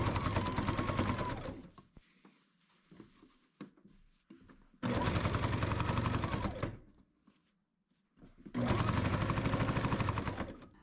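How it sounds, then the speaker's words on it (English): A Baby Lock Jazz II sewing machine stitches quilt binding in three separate runs of steady, close stitching, with quiet pauses and fabric handling between them. "here's that process again of how to sew the binding in the corner"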